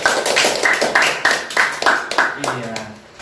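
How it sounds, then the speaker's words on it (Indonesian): A small group claps in a crisp, regular rhythm of roughly eight distinct beats while welcoming a blood-donor organisation on a podcast. The claps are close and sharp, and a voice comes in as they fade near the end. "Oke, tepuk tangan dulu ya"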